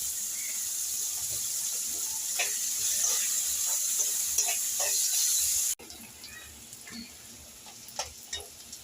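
Onion, garlic and curry leaves frying in a pan for a Konkan jawla dish, a steady close sizzle with scattered crackles and occasional stirring scrapes, dropping to a quieter simmer partway through.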